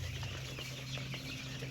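Chickens clucking in a poultry farm shed, soft overlapping clucks over a steady low mechanical hum, faint and continuous with no speech.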